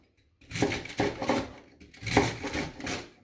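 Chopping vegetable stems into half moons with a knife on a cutting board: four or five close, distinct thuds in an uneven rhythm, alone in a quiet room.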